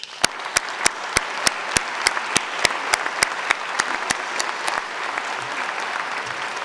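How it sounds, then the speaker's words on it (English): At a college athletic hall of fame induction ceremony, the audience claps for alumni athletes and coaches, with sharp, evenly spaced claps standing out over a steady bed of crowd applause that slowly thins toward the end. "Let's give you a round of applause"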